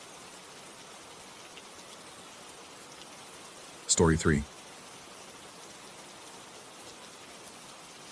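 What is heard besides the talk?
rain falling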